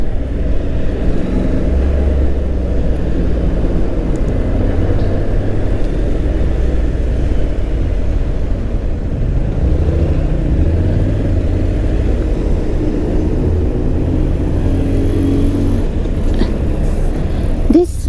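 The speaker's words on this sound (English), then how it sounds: "This area usually has so much traffic." Road traffic passes continuously in a town area, a loud, dense low rumble of engines and tyres that barely lets up for the whole stretch.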